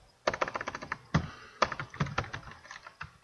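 Fast typing on a computer keyboard while writing C# code, close crisp key clicks in quick bursts with short pauses and a few heavier thunks, no speech.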